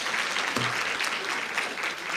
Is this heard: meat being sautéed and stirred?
no